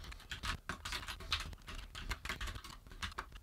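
Rapid keystrokes on a computer keyboard as code is typed, an uneven run of close, light clacks and taps at a quiet level with no talking.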